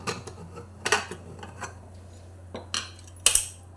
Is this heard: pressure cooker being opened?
yes